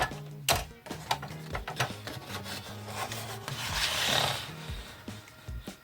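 Paper being cut for a 20x20 children's scrapbooking album, with close scraping, rubbing strokes, a few sharp snips and a longer hissing drag near the end, alone without talk.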